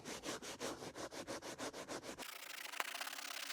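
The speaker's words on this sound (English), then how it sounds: "I'm gonna take a scuff pad and go over the whole area that I'm gonna be dyeing." Scuff pad rubbed over worn leather before dyeing, a quick run of about a dozen rhythmic back-and-forth scrubbing strokes, close and clear, then a softer continuous scratchy rub.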